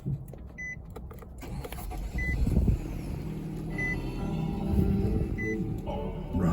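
A 2016 Nissan Rogue SV AWD engine cranks and catches, then settles into a steady low idle heard from inside the cabin, with faint beeps and interior sounds over the hum.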